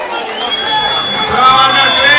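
Supporters cheering for graduate Clênio at a graduation ceremony: a steady, loud wash of crowd shouting and cheering fills the whole stretch, with voices overlapping throughout.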